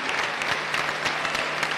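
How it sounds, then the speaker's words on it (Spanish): Dense, steady applause from a crowd at a political gathering in Argentina, a continuous wash of many hands clapping together without pause. "Un fuerte aplauso entonces"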